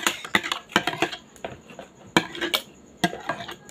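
Graham dessert mix stirred in a bowl for a mango graham treat: a brisk run of clinking, scraping utensil-on-bowl strokes in irregular bursts, close and fairly loud, with no talking.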